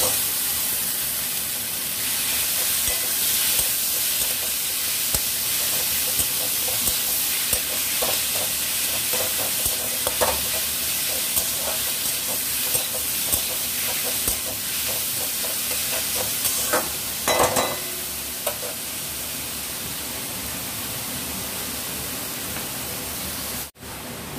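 Fried chhatu going into a hot pan and being stirred, with a continuous sizzle and scraping stir strokes close by, loud and unbroken and with no talk.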